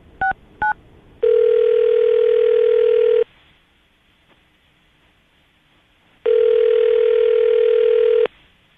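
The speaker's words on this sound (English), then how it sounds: "We're going to call her right now, see if we can get her on the phone" A telephone line gives two short dialing beeps, then a loud, steady dial tone that holds for about two seconds, goes silent, and sounds again for another two seconds, with no voices.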